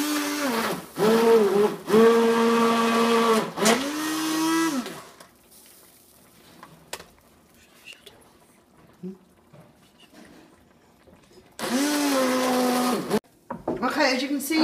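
A handheld stick blender whirs through yellow courgette soup in a home kitchen, its motor rising and settling in two long bursts, with a quiet stretch between them and a brief final burst.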